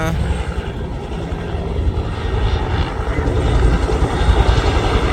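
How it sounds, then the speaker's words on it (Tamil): A helicopter drones overhead with a low, steady rotor rumble that grows slightly louder toward the end, mixed with broad engine noise. "ஹெலிகாப்டர் ஒன்று வந்து இருக்கு பாருங்கள்"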